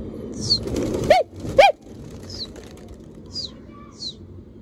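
A flock of pigeons takes off with loud wing flaps, while a few whistle-like pigeon calls and soft coos sound nearby.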